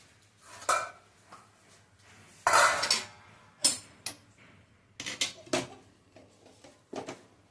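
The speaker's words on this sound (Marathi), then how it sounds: "जरा हलवून तूप ह्यात सगळं मिक्स करून घेऊया." A spoon stirs ghee into a mixture in a metal pan while sweet stuffed flatbread is being made. Irregular scraping and clinking strokes come in close bursts with short quiet gaps between them.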